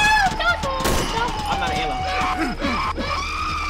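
Automatic assault rifle fire in the horror game Cry of Fear, a dense burst of rapid shots with creature groans and cries, while someone talks over it throughout.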